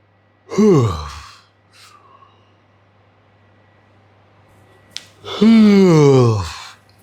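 Two long, drawn-out yawns, close to the ear, separated by a quiet pause with a faint click between them.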